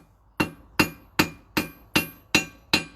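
A hammer striking metal seven times at an even, unhurried pace, each blow a sharp, bright ring that decays quickly, close and alone.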